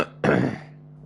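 A single sharp cough bursts out close to the microphone, followed by a brief fading rasp, with a steady low hum underneath.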